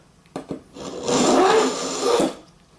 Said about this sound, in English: It's making quite a nice grinding noise.